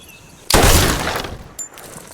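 A single loud, close gunshot bursts out after a quiet moment and decays through a ringing tail, with a smaller sharp impact following, during a Jack Reacher action scene.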